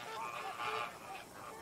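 Flamingos at Ras Al Khor Wildlife Sanctuary in Dubai call in a dense, continuous goose-like honking chorus, a massed flock heard at moderate level with no gaps.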